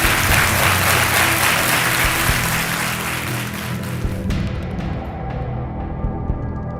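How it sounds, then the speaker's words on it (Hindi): A studio audience at a TV quiz show applauds to welcome a guest, with dense, loud, sustained clapping that fades slightly toward the end. "तालियों के साथ इनका हम स्वागत कर रहे हैं।"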